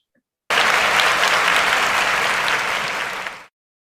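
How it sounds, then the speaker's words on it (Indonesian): A group's applause for a presenter during a university family-nursing health talk held over Zoom, starting abruptly and continuing as steady, dense clapping for about three seconds before cutting off. "Beri tepuk tangan untuk Ibu Lia."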